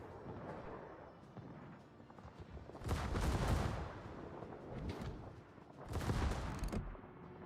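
Naval guns fire at enemy ships in a warship video game, two heavy booming salvos standing out above a rumbling background of distant battle noise.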